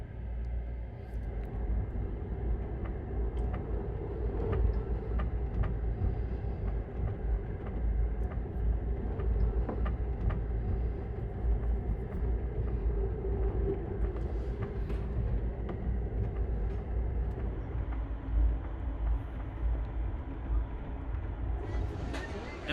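Steady low rumble and rattle of an Amtrak Sunset Limited passenger train riding on the rails, heard from inside the car, continuous and fairly loud throughout with occasional clicks and creaks.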